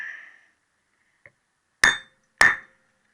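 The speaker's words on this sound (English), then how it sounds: "the best way I found to cut this is a chisel" Two sharp, loud metallic hammer blows strike a steel chisel cutting through a throttle cable, spaced about half a second apart, each ringing briefly, preceded by a faint tap.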